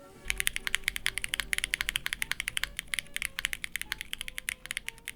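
A mechanical keyboard with WS Studios Jade switches is typed on steadily, producing a close run of crisp, even keystrokes that thins out toward the end, with no speech.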